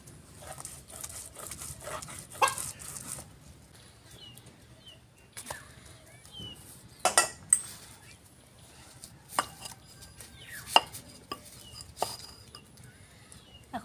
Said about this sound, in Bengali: গোটা গোটা করে কাটো, এই যে এত পাতলা না, এতটা এতটা করে।